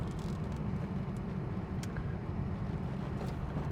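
A 1986 Porsche 911 rolling over a rough, broken road, a continuous low rumbling road and engine noise with occasional faint knocks from the suspension, steady and fairly quiet throughout.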